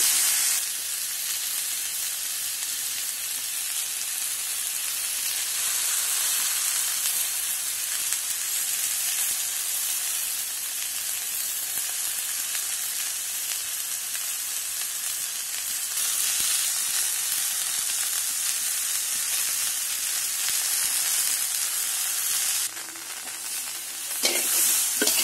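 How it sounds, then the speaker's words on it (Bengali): Drumstick (sajna) pieces fry in hot oil in a pan, giving a steady, loud, even sizzle that runs unbroken for the whole stretch, with only brief shifts in intensity and no talking. "এখন আমরা সাজনাগুলো একটু ভেজে নিই।"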